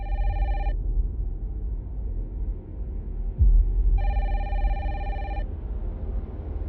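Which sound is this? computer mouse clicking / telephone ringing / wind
telephone ringing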